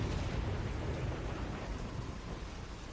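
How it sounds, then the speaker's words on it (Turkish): Steady rain with rolling thunder from a stormy scene in The Walking Dead video game, a dense continuous wash of rainfall with a low rumble underneath and no voices. "Yağmur yağıyor şimdi şimşek çakacak gider."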